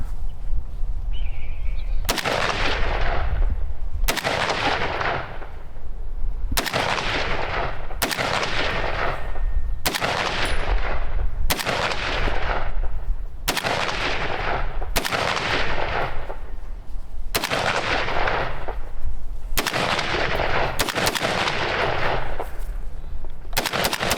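An Ohio Ordnance BAR rifle fires outdoors, about ten loud single booming shots spaced a couple of seconds apart, each trailing off in a long echo.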